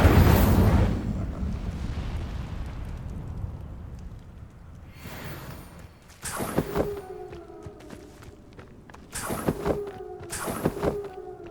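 An Incendio fire spell in Hogwarts Legacy erupts with a loud roaring whoosh that fades over several seconds, followed by sharper bursts and booming impacts of the ongoing fight.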